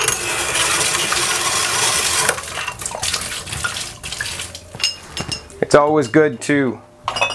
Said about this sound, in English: This is a bottle tree. Very inexpensive item that hangs the bottles in a way that allows the water to drain out of them.